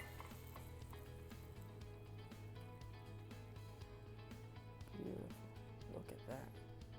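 Onions sizzle in a hot pan with beef and meat juices for a Vietnamese bun bo xao, a steady low frying hiss with a few stirring scrapes and a voice talking over it.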